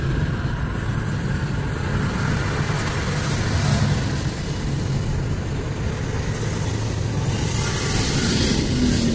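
Steady city road traffic noise in India, a dense rumble of cars, bikes and heavier vehicles passing continuously, with no voices.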